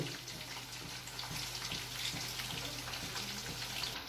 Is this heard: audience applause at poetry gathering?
no